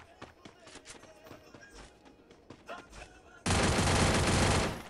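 Gunfire in the mobile battle game Free Fire: scattered quick shots and taps, then a loud sustained burst of automatic fire that cuts off abruptly near the end.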